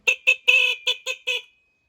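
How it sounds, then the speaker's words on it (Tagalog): A shrill, nasal motorcycle horn on a Motorstar 125 honks six times in quick succession, one held slightly longer, close and clear with nothing else around it. "Matinis yung busina niya."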